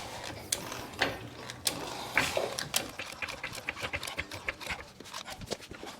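A jack lifts a Toyota RAV4 Prime, giving a quick series of close ratcheting clicks and metallic clacks in an uneven rhythm, with no talking.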